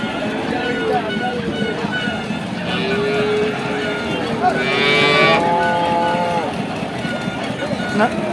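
Cattle at a livestock market low and moo repeatedly, several calls rising over a busy crowd of voices and general market bustle nearby.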